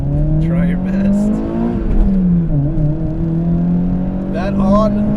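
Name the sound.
2ZZ-swapped Toyota MR2 Spyder engine revving high while driving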